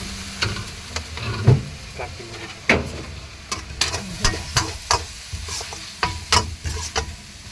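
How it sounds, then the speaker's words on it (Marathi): Noodles fry at a roadside vada pav stall, a steady sizzle broken by sharp metallic clanks and scrapes of a spatula against the pan in an irregular rhythm, close and fairly loud with street bustle behind. "हे नूडल्स फ्राय होत आहे इकडे"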